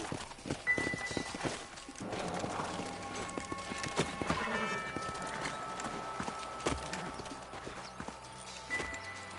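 Horses' hooves clip-clop in a video game set in the Old West, a steady patter of footfalls with tonal game sounds and music layered over it, moderately near.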